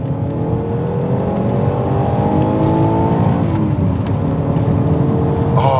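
An Alfa Romeo 156 accelerating hard along a straight road, its engine note rising steadily and loudly through the revs with a smooth, continuous drone.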